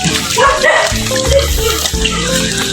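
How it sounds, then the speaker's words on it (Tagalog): Many dogs bark at once on a mountainside, a dense, loud, overlapping chorus of barks that continues throughout, with some broadband background noise. "ang daming aso"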